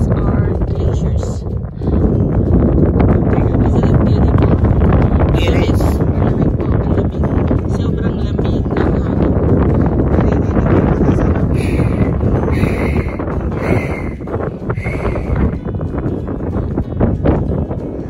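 Strong wind roars and buffets the microphone without letup at a high mountain lookout on Whistler Mountain, with faint voices briefly beneath the gusts.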